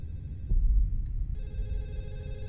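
A telephone rings with a steady, sustained electronic tone that starts partway through over a low background rumble.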